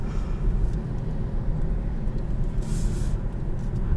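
Deep, throaty rumble of a 2020 Hyundai Sonata engine and exhaust, loud and steady with pulsing low-end throb.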